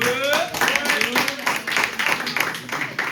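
Applause rises for the next speaker at a student debate contest, with a patter of hand claps running beneath louder overlapping voices and chatter close by.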